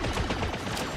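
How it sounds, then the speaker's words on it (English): Dense, crackling gunfire from a first-person video game fills a brief moment, a flurry of sharp overlapping shots close by. "Oh god, I got sniped."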